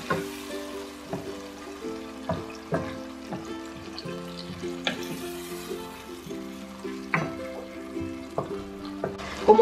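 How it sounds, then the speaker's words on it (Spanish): Pork beans stew with chorizo, tomato and onion in a pan, a gentle bubbling sizzle broken by regular spoon stirs and knocks against the pan, close and steady, with no talk. "ahora voy a colocar aquí los frijoles para que comiencen a guisarse"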